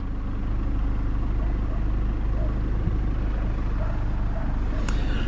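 A 2019 Volkswagen Passat Estate 2.0 TDI GT diesel idles steadily and close by after firing up, a low even rumble that holds throughout with a brief higher whine near the end.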